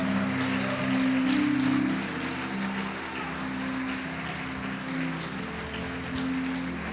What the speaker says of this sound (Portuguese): Pode aplaudir se quiser.